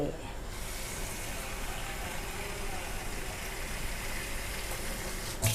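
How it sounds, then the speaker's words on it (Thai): Clean water pours steadily into a cooking pot of pork ribs being stewed, a continuous soft splashing rush lasting several seconds with a brief clatter at the end. "ตักใส่น้ำเปล่านะคะ"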